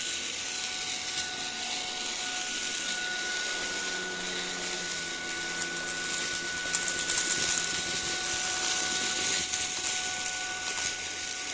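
Ultenic U12 Vesla cordless stick vacuum cleaner running steadily indoors, a continuous airy whir with a faint whine, fairly quiet and alone with no talk.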